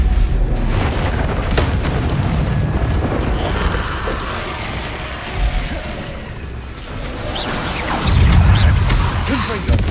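Spell explosions from the Hogwarts Legacy video game, Confringo and Bombarda blasts, rumble as a dense, continuous barrage of booms and crashes, with a heavier burst of low impacts near the end.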